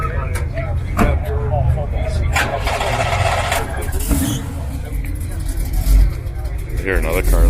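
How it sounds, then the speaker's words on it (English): A car pulls away from a highway 11 cruise night meet, its engine note rumbling under steady crowd chatter and nearby talk, with a brief rise around the middle as it moves off. "Here, another car leaving."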